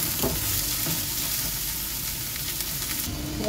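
Chopped onion and golden garlic sizzling steadily in a frying pan, with occasional stirring scrapes and taps, a loud continuous crackle close by with no talking.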